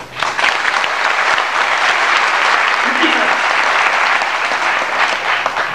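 An audience at a Marathi public speech breaks into sustained, loud applause, with dense clapping that runs continuously from start to finish.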